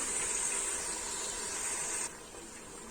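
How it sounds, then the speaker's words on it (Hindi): Yogurt added to chicken in a hot pot, giving a loud, steady hiss of steam that drops sharply after about two seconds and carries on more quietly. "तो अब हम इसमें डालेंगे 150 ग्राम के करीब दही"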